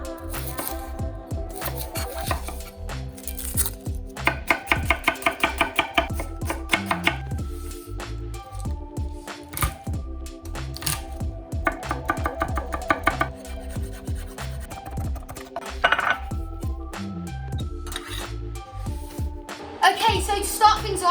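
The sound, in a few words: chopping onions and garlic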